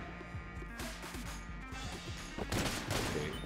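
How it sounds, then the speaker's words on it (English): Shotgun blasts ring out in the dungeon-climbing video game Exit the Gungeon: a string of sharp, punchy shots in quick succession, with a louder cluster of blasts toward the end. "Like a shotgun. I can unload this."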